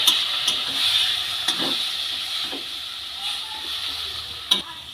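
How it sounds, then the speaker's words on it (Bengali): Grated raw mango being stirred in hot ghee, a continuous bright sizzle with occasional scrapes and taps of a spoon against the pan, close and fairly loud. "ঘিয়ের মধ্যে আমগুলো দিয়ে খুব ভালো করে নেড়ে নেবো"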